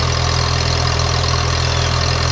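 A Kohler 1E21 emergency light plant's engine idles with a steady, even, low mechanical hum and drone that does not vary over the few seconds, with no voices.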